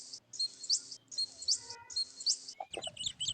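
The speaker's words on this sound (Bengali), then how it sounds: "সুন্দর পাখি ডাকাডাকি করছে" Birds in a garden on a sunny morning give three repeated high chirping phrases in a steady rhythm, then a busier flurry of calls, moderately close and alone with no speech.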